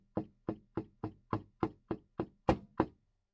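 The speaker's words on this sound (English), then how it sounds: "Ida, someone is knocking on my door" Ten sharp knocks on a door come at a steady, even pace, fairly close but soft, with the last couple slightly harder, in an otherwise quiet room with a wood stove.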